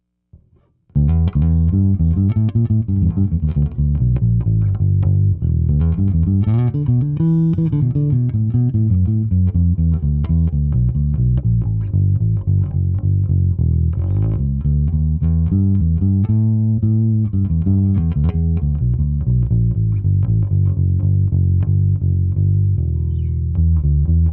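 A bass guitar plays clean through an Acoustic 420 bass amp, a continuous run of deep, round, undistorted notes and short phrases heard alone and loud throughout.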